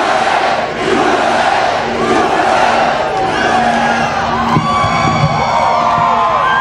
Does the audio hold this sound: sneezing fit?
no